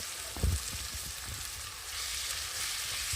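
Onions sizzle and fry steadily in hot oil, with a brief louder clatter as garlic, ginger and cumin paste goes into the pan, then a constant close, moderate crackling hiss.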